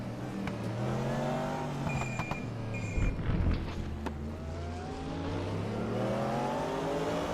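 Race cars, a Mercedes, a Porsche and a Corvette, battling at Sepang: sustained engine drones with rising and falling pitch as cars rev and pass, a brief cluster of louder clatter midway.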